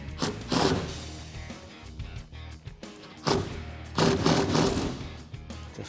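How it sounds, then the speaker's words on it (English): An impact gun with a 1/2-inch socket tightens a clamp bolt on a tonneau cover rail of a 2019-2020 RAM 1500, giving two loud, close bursts of rapid hammering separated by short pauses. "Grab your 1/2-inch socket and your impact gun and tighten it down."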